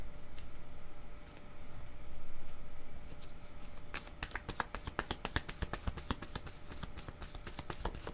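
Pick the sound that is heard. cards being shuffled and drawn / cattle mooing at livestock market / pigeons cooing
cards being shuffled and drawn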